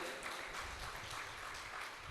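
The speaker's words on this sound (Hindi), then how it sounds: "ज़ोरदार तालियों से इनका हौसला अफजाई किया जाए" Students at an award ceremony held at an old age home receive a steady wash of applause from an audience, sustained and even but fairly faint.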